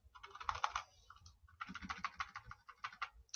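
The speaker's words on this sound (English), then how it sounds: "So he's typed in his name" Rapid typing on a computer keyboard, two bursts of quick key clicks separated by a short pause, close and clear with no talking.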